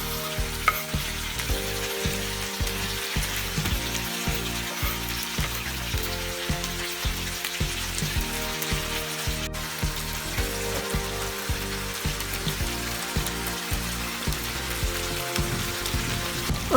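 Chicken karahi sizzles loudly and steadily in the pan just after tomatoes are added, a continuous bright crackle of frying with short rhythmic stirring knocks underneath.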